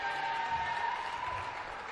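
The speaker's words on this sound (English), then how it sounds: "Yeah, big cheer from the crowd." Spectators at a netball match give a steady, moderately loud cheer and applause, a continuous crowd wash with no distinct voices.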